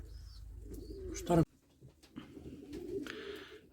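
Pigeons in a coop give soft, low cooing calls near the microphone, broken by a brief loud flutter or clatter, with faint bird sounds and quiet background noise around them.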